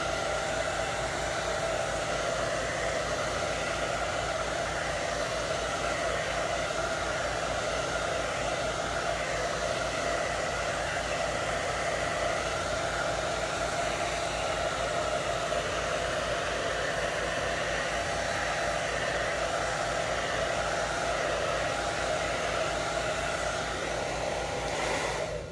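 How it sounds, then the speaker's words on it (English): A hair dryer blows hot air to dry chalk paste on a DIY spring floral sign, a steady, loud, unbroken whoosh that runs for the whole stretch with no talking. "For me, a blow dryer works just as well."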